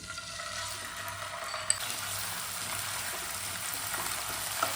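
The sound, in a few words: ginger garlic paste frying in oil in a wok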